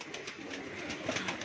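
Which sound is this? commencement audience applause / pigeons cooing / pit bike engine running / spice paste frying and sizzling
pigeons cooing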